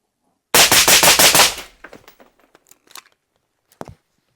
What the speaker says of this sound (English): I will do just like a couple of shots, 5 shots